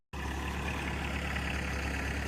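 A tractor engine runs steadily while filling in dirt, a constant low rumbling drone that starts abruptly and holds at an even level, close by.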